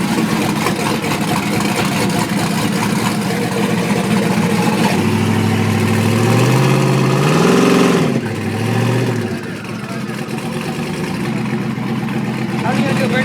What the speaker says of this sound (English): How are you gonna do a burnout before me?